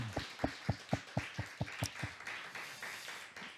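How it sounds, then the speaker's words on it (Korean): At a Friday church prayer meeting, the congregation claps in unison as thanks to God, about nine sharp rhythmic claps in quick succession, then trailing into softer scattered clapping and room noise. "우리 하나님께 감사의 박수 함께 올려드리겠습니다"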